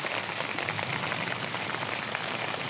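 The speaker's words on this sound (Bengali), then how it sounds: "আর বাহিরে বৃষ্টি হচ্ছে।" Rain falls steadily outside a tent in rural Bangladesh, an even close patter and hiss with no pauses.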